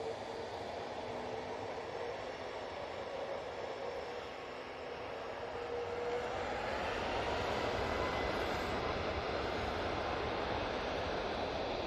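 Ryanair passenger jet departing Manchester Airport for Lisbon: a broad, distant rumbling roar that builds and swells slightly over time, steady and moderately loud with no voices.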